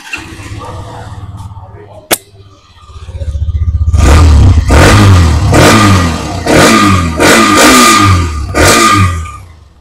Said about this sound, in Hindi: तभी का जस्ट आपने इस गाड़ी का एग्जॉस्ट साउंड को सुना